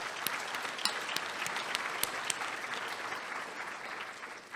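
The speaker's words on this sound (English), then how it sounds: "So let's give them a round of applause." Polite applause from a lecture audience, steady clapping with a few sharper claps standing out, moderately quiet and tapering slightly by the end.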